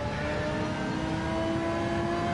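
An Audi race car in Gran Turismo 7 at Brands Hatch, heard from on board: a steady, loud engine drone with a constant pitch held throughout, without breaks or talk.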